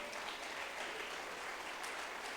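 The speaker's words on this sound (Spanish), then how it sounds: "Dale un aplauso al Señor" A church congregation gives sustained, dense applause during a Spanish-language sermon, heard at moderate distance as an even wash of clapping with no talk over it.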